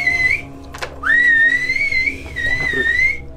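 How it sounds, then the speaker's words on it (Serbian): A person whistles inside a cave, a clear, sustained tune of long, gliding notes with one brief break near the start, loud and close with a slight echo and some faint rustling beneath. "Ko zviždi to? Čekaj, ajde da pratimo zviždu"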